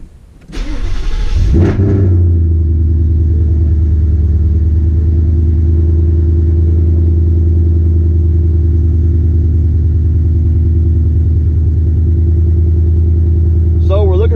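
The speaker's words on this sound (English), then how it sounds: "It's fluctuating, so we're going to start the car up." A 2018 Whipple-supercharged Mustang running on an E75–E77 ethanol blend cranks and fires up, then settles into a loud, steady, rumbling idle close by that holds without a break.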